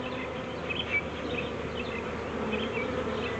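Bees buzzing at an open hive during a calm beekeeping session, a dense steady hum of many insects close by with individual bees droning past, no talking.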